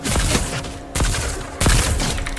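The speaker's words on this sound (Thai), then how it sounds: "มันก็จะยิงช้าหน่อยๆเนี่ยจะยิงประมาณเนี้ย แต่สีทองมันก็แรงนะท่านผู้ชม" A golden gun in the video game Fortnite fires slowly: three loud, sharp shots spaced roughly a second apart, each with a brief crackling tail, with no voices over them.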